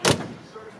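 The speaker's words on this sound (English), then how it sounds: "Doors close nice." The door of a 1931 Ford Victoria shuts with one short, solid thump, followed by a faint low rattle and quiet background noise.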